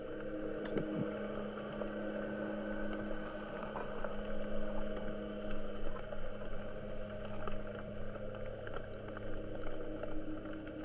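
Boat engines passing not far away, heard underwater while spearfishing off Morbihan, Brittany, as a steady low droning hum with faint clicks and crackles, continuous and moderately loud throughout.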